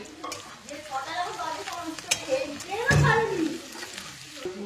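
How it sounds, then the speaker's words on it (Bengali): Chilli powder and spice paste fry in a pan while being stirred, a bright sizzle broken by scraping and clattering strokes, with a voice talking over the cooking. "লঙ্কার গুঁড়ো 2 চামচ দিয়ে মশলাটাকে কষিয়ে নিচ্ছি"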